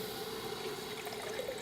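Water pours into a pot holding curry paste for a southern Thai sour curry, a soft, continuous rushing splash with a faint steady tone, quiet and alone.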